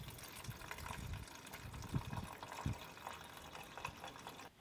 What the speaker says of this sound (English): Simply unscrew the yellow cap and add coolant all the way to the maximum mark.